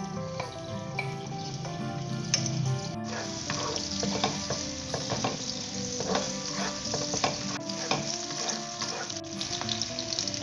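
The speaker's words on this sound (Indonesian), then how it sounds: "Tumis bawang merah dan bawang putih." Shallots and garlic sautéing in a pan for a savory filling, a steady loud sizzle and crackle with occasional stirring scrapes running throughout, no voices.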